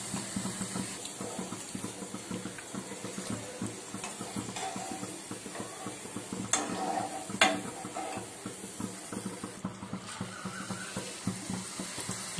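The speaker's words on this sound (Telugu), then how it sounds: "సో గోల్డెన్ కలర్లోకి ఫ్రై చేసుకుంటే సరిపోతుంది" Onion pakodi frying in hot oil until golden, a continuous close sizzle and bubbling with occasional stirring clinks throughout.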